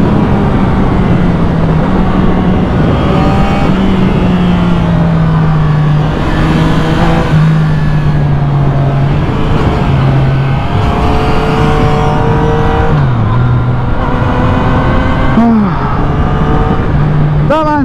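BMW motorcycle exhaust on a mountain road race over Passo della Cisa: a loud, continuous engine drone rising and falling in pitch through gear changes and revs, close and dominant throughout.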